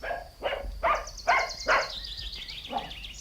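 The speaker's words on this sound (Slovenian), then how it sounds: "Kakšen psiček pa je tole?" A dog barking close by in a run of five or six sharp barks at a fairly even rhythm, with a faint high tone running underneath.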